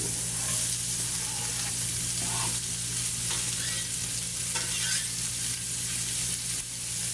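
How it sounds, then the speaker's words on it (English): Diced onion sizzling steadily in leftover bacon fat, a dense close-up crackle and hiss with occasional stirring scrapes, continuous and unbroken under a low hum. "We've got the onion diced, and we've got this wonderful bacon fat left over. Time to soften them up a little bit"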